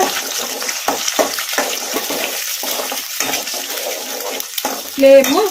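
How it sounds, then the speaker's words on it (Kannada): Eggs stir-fried in a kadai over a medium flame for egg fried rice, close, loud sizzling broken by repeated rhythmic scrapes of the spatula against the pan, with a brief clatter at the end. "ಮೀಡಿಯಮ್ ಫ್ಲೇಮಲ್ಲೇ ಈ ಥರ ಕಲಿಸ್ಕೊಂತ ಫ್ರೈ ಮಾಡ್ಕೋಬೇಕು"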